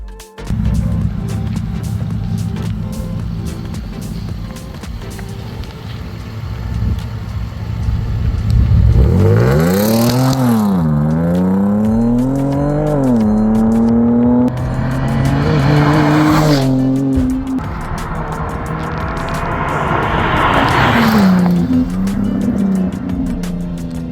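A Jaguar XE with a Raptor Design aftermarket exhaust revs hard and loud up close, its engine note swooping repeatedly up and down through sustained high revs, with rasping bursts and tire-squeal-like edges.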